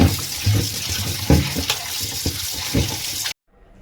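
Fish pieces rubbed with salt and turmeric are rinsed under running water, a steady close splashing wash with intermittent sloshes and thumps that cuts off abruptly near the end.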